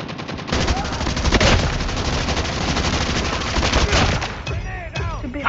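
Dense, continuous automatic gunfire in the video game Call of Duty Mobile, loud rapid bursts with explosions, plus game sound effects and brief voice chatter toward the end.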